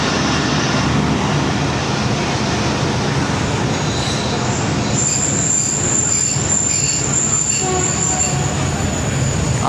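A Pakistan Railways passenger train runs loudly and steadily, its wheels squealing in a sustained high-pitched screech over the continuous rumble of carriages on the rails.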